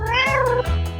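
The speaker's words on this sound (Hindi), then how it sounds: "अरे नहीं, मेरी बिल्ली इसमें है।" Pet cat meowing from inside a basket, two clear drawn-out meows close by, loud and alone.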